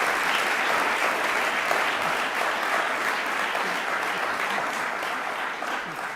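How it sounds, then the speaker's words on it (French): Dense, continuous applause from the audience at the 2023 Ordre national du Québec insignia ceremony. An even, crowded roar of clapping holds steady throughout at a moderate level. "oui, on peut applaudir"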